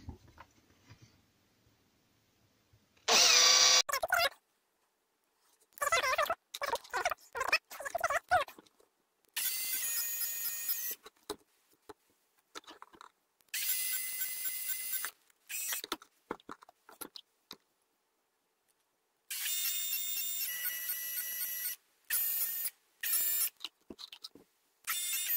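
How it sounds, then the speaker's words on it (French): Five holes are drilled in turn with a small drill into a model part for fitting magnets, each a short high whirring burst separated by quiet pauses. "Et je vais faire l'ensemble des trous d'un seul coup, c'est-à-dire les 5 trous."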